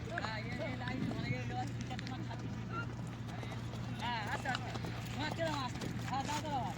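Horses race during training in Canning, their hooves drumming a quick, steady clip-clop beneath continuous nearby talking voices.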